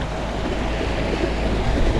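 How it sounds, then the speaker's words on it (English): A boat passes on open water, heard from a small kayak fitted with an electric outboard. A steady rumbling wash mixes with wind buffeting the microphone throughout. "See that boat passing by?"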